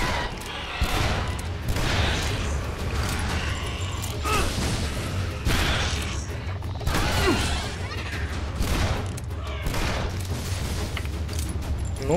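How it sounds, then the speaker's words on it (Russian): Shadow Warrior game sound effects of a car being blown up, repeated booming blasts and clattering impacts over a low rumble, several loud bursts spaced across the stretch. "Давайте взорвем машину."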